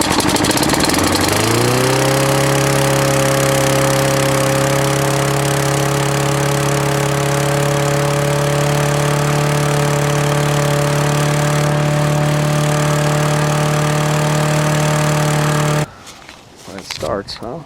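A Toro Recycler lawn mower engine catches after a brief pull and settles into a loud, steady, close-up running drone for about fourteen seconds before it stops abruptly.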